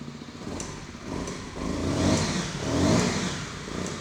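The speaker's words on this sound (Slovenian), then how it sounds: "motorček je zelo igriv, uboga ročico plina" An SWM RS 125 R motorcycle with electric start revs repeatedly under throttle, its mid-pitched engine note rising and falling in two strong swells, close and loud with no talk.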